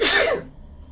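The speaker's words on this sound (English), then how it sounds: "Bless you, adorable sneeze." A single short sneeze, sharp and breathy, bursting out close by and fading within half a second.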